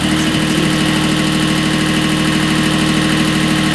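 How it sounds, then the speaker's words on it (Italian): A rotary tiller's small engine runs continuously at a steady idle, close and loud, with an even throbbing vibration and no pauses. "qua vi farò sentire la potenza di questo motore"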